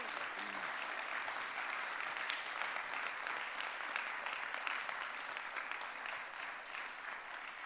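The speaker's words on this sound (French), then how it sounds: "Je pense qu'on peut applaudir à nouveau Gilles Miteau pour être venu." Steady applause from a conference audience at a school lecture hall, many hands clapping evenly and continuously at moderate distance, with no voices over it.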